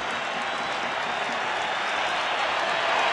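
Baseball stadium crowd at an Atlanta versus Colorado game applauding and cheering a strikeout, a dense, steady roar of clapping that swells slightly toward the end, with no clear voices.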